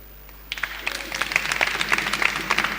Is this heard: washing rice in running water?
no